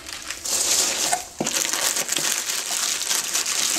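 Bubble wrap packaging is pulled off a hookah bowl from a delivery, steady close crinkling and crumpling plastic rustle with one sharp tear-like snap partway through, no talk.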